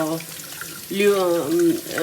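Tap water runs steadily into a sink as hands are washed, while a voice talks over the flow throughout.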